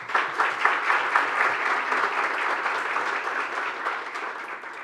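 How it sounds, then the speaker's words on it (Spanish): A crowd at an academic gathering applauds, dense steady clapping that holds throughout and tapers slightly toward the end. "Este aplauso es para ustedes."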